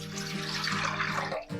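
Water, about one to one and a half litres, pours into a steamer pot, a short steady splashing gush close by that cuts off briefly near the end, with no voices.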